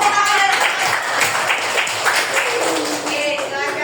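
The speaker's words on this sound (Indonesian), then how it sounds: "Oh iya, tepuk tangan." Group of schoolgirls in a classroom clapping hands together during a team cheer, a dense, steady patter of many hands at close range with voices mixed in throughout.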